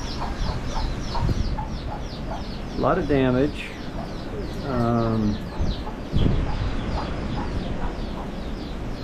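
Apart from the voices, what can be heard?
chickens clucking while sheltering after a typhoon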